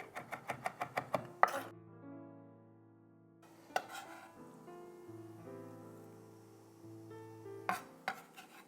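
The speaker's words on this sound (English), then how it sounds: "I kind of like to get a bit of a coarse consistency using the knife by hand chopping it" A knife chops black olives by hand on a board in quick bursts of crisp, close taps separated by pauses, with soft tonal music playing quietly underneath.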